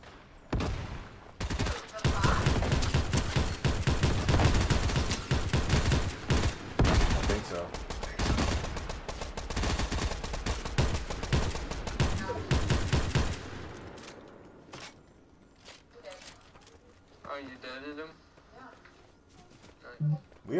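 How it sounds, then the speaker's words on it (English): Explosive shotgun fire in the battle royale game Fortnite, a long stretch of heavy, rapid blasts and booming shots crowding together, loud and close, then thinning to scattered single shots, with people talking over it. "Watch out, he has the shotgun. Explosive shotgun."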